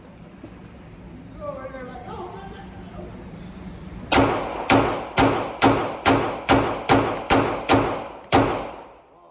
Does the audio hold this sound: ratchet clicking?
no